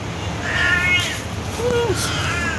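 A cat up for adoption meows twice, with high drawn-out cries in the foreground over a steady hum of room noise.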